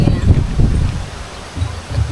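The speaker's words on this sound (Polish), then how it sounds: "Szkoda trochę, że tak wieje" Strong outdoor wind buffets the microphone, producing a low, rumbling roar in uneven gusts that swell and ease over a couple of seconds.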